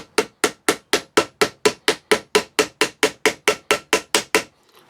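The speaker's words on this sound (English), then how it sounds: "I am now going to peen them all over, which is pretty easy." Rivets on a drain pipe sword scabbard hammered flat to peen them, about twenty sharp metallic blows struck at a fast, even rhythm, loud and close, with no talking.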